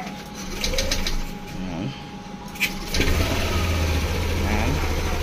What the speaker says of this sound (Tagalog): Okay, so ngayon i-start natin yung motor.